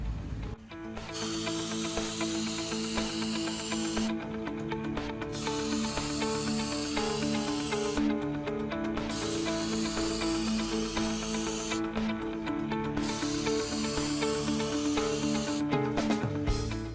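Action Clear aerosol protective coating sprays onto a circuit board in long steady bursts of close, loud hissing, each lasting several seconds and separated by short pauses, with no one talking.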